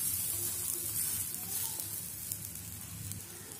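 A banana pancake sizzles steadily in ghee in a pan, with soft continuous crackling and frying hiss, close and fairly quiet, with no talking.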